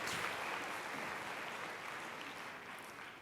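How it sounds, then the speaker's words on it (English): Audience applauding contestants at an anime convention cosplay competition, a steady wash of clapping from a crowd that fades slightly toward the end, with no talk over it. "Big round of applause, please, for Dale,"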